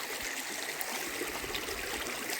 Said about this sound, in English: there's like a little stream back there. That's the stream.